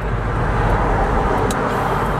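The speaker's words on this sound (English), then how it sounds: "And when you floor the gas, that's when I want it. I want to hear the V8," Lexus SC430 with its V8 engine and an Injen short ram intake, heard as a steady broadband roar at constant level, like a car under way, loud and continuous with no talk.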